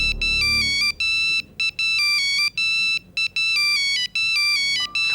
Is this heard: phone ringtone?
yes